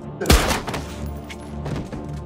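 A single sharp pistol shot in a film cracks loudly near the start, followed by a rumbling echo and low background sounds.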